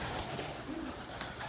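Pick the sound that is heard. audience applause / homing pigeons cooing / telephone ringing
homing pigeons cooing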